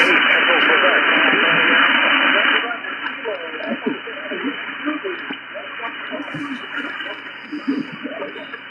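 Weak amateur radio signal on the 20 meter band, a faint voice buried in steady hiss and static, the noise dropping slightly partway through while the garbled transmission continues throughout.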